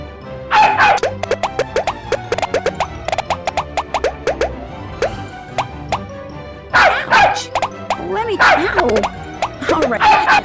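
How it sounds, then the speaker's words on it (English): A dog in a Nancy Drew video game barks in rapid, repeated bursts, loud and close, with busy clusters of yaps and short pauses between them. "capture that stupid bubble-burping dog once and for all"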